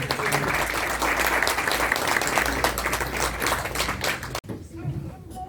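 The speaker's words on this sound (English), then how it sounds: "So if you guys could please give her your attention and a round of applause." An audience at an American Federation of Muslims of Indian Origin annual event in Chicago applauds steadily for about four seconds, a dense even clatter of clapping that stops abruptly and gives way to quieter room sound.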